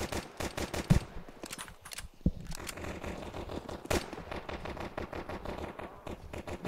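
Counter-Strike gunfire crackles in rapid automatic bursts and single shots, loud and dense, with brief pauses between the volleys and no talking.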